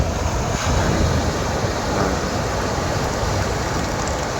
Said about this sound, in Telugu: ఈరోజు మార్నింగ్ టైంలో బీచ్ ఏ విధంగా ఉంటుందో మీకు అందరికీ చూపిస్తానని ఇక్కడికి వచ్చానండి